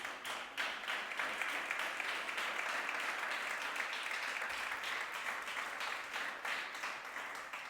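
A church congregation applauding steadily during a worship service, a dense, sustained patter of clapping that holds at an even level throughout.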